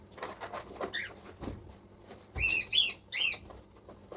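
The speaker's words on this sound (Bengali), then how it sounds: "বাইরে পাখিগুলো ভীষণ চিৎকার করছে," Birds outside call loudly in three sharp, shrill bursts close together, over a faint, busy indoor background.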